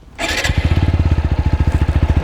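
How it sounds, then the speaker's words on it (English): A 2020 TVS Apache RTR 160 4V motorcycle engine cranks and catches in neutral, then settles into a loud, close, steady rhythmic idle with evenly spaced pulses. "We start the motorcycle in neutral"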